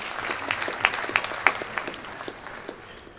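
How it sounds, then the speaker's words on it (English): Applause at a builders' conference opening ceremony, a crowd clapping with sharp, irregular claps over a steady patter that gradually thins and fades over a few seconds. "A round of applause for him, please."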